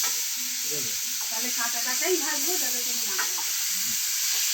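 Food fries crisp in a pan with a steady, close sizzle. Voices talk over it throughout.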